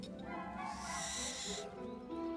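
An owl arriving with the post in a Harry Potter film gives a breathy, hooting screech lasting about a second and a half over a low background hum.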